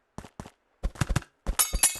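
Glass shattering in the video game Ninja Arashi: a few sharp knocks followed by a cluster of crunchy breaking hits and a bright, crackling burst of shards at the end, loud and close.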